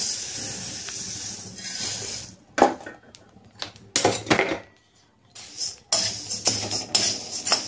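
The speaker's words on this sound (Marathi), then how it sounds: "तर आता आपण धने भाजून घेऊया." Coriander seeds dry-roasting in a pan over a slow flame, giving a close, steady sizzling hiss broken by several sharp bursts of scraping and clattering as they are stirred.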